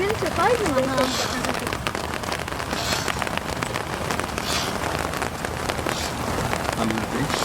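Heavy rain pours during a trip in New Orleans, a dense, loud, constant patter on surfaces close by, with faint voices and a few brief tonal sounds mixed in.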